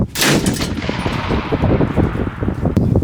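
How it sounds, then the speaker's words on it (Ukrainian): Rapid single shots from a machine gun mounted on a remotely controlled combat robot crack in quick succession, loud and close, with a dense rattling texture throughout. "Поодинокими постріл."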